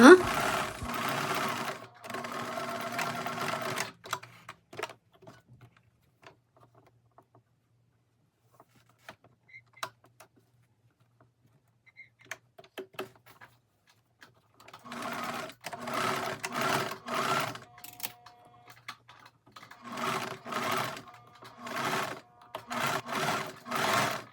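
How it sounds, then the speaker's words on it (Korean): A sewing machine stitches a zipper along the finish line of a two-in-one dress, running in several bursts of steady whirring with a long quiet pause between them, close and fairly loud. "완성선을 따라서 지퍼를 박음질하면 쉽게 지퍼를 달을 수 있습니다."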